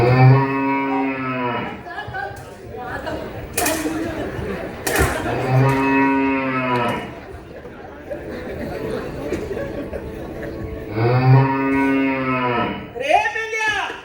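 A cow's moo voiced during a Naman folk stage performance from Chiplun taluka: three long, drawn-out lowing calls spaced several seconds apart, with crowd chatter and noise between them.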